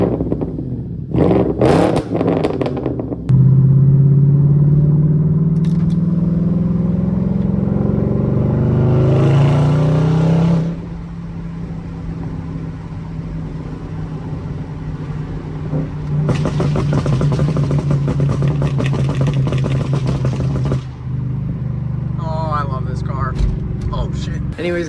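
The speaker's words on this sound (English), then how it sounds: "It's pretty much straight piped, just besides one muffler. But you know, she's loud and I love it." A car with a straight-piped exhaust and a single muffler revs loudly, its engine climbing and falling in pitch in a couple of long pulls, deep and close, with a short blip near the start.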